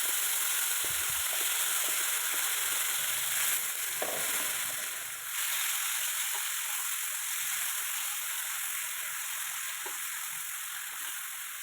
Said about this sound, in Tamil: எண்ணெய் காஞ்சதும் ஊற வச்ச பன்னீர் சேர்த்து நல்லா ஃப்ரை பண்ணிக்கணும்.